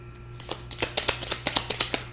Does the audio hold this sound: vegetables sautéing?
no